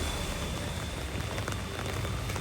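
Heavy rain pours down on the town of Jaffna, a dense, unbroken hiss of drops drumming on surfaces that stays loud and even throughout, with no voices.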